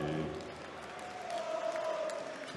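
A crowd of over 2,000 at a PDC European Tour darts match in the Saxon Arena, Riesa, cheers and applauds steadily at moderate distance, swelling slightly midway, with a commentator's voice over it.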